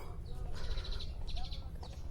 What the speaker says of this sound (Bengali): এই দেখেন পাখি, শালিকের শব্দ